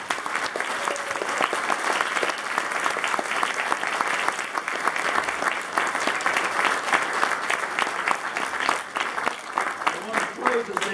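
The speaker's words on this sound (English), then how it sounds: "Let's give them a round of applause." Sustained applause from an audience after a performance at an evening gathering, dense and even clapping that holds steady and fairly loud throughout with no talk over it.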